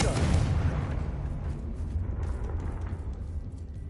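A Confringo fire spell explodes in a Harry Potter–style video game, opening with a loud, deep blast that settles into a lingering rumbling roar fading over the next few seconds.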